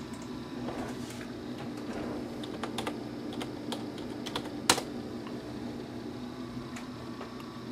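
Password keystrokes on a computer keyboard while a PowerPC Mac runs Minecraft: scattered, faint clicks over a steady background hum, with one sharper tap standing out near the end.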